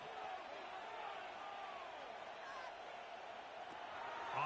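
Stadium crowd noise from a Madden football video game franchise match, a steady roar of cheering that swells slightly at the end as third down approaches, heard alone without talk.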